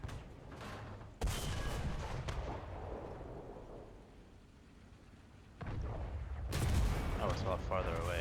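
Distant artillery and gunfire rumble through a battle in the video game Matidler F-96, heavy booms and bursts of shots rolling in at intervals, with a voice talking over the combat.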